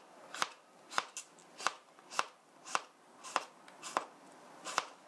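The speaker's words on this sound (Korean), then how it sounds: "자, 이렇게 썰어졌습니다. 오이 5개예요." A knife thinly slices cucumbers on a cutting board for a seasoned cucumber side dish. About ten crisp, evenly spaced chops fall over five seconds, close and clear, with no talking.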